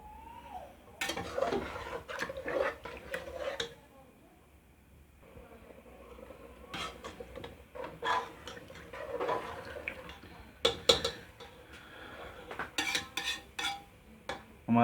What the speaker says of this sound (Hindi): अब हम अपने गोश्त को जो है मीट है उसको हम भूनेंगे अच्छी तरह।